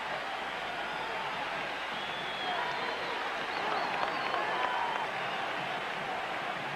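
A distant stadium crowd at a 1986 Michigan versus Notre Dame college football game roars in a steady, faint wash of cheering that swells slightly midway.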